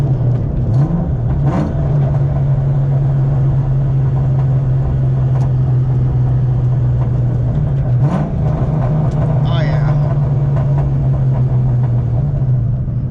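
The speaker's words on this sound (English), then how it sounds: "Did a little bit of double clutch action right there, and it feels way better than I remember it." Car engine humming steadily through a double-clutch downshift in a 2003–04 vehicle, a loud continuous drone heard from inside with small changes in pitch and no speech.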